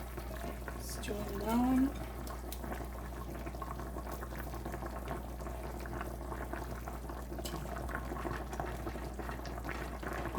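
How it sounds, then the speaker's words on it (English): Jamaican-style brown stew fish gravy with okra and string beans bubbles steadily in a pot, a low, soft simmering under a constant hum, with a brief spoken voice near the start. "That my gravy is boiling up, I'm gonna add my fish in."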